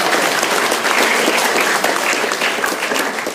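Sustained, loud applause fills the whole stretch as an audience at a youth-wing political society debate claps for the evening's photographer, dense and even with no break.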